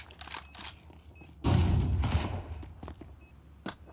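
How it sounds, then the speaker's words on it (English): A flashbang grenade bursts in a tactical shooter match, one loud sharp blast with a brief decaying ring. Quieter game sounds and clicks come before and after it. "Nice flashbang, but no commitment."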